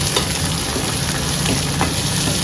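Onions sizzling in a pan of oil over already browned garlic, with a steady, dense, close-up frying crackle and no pauses.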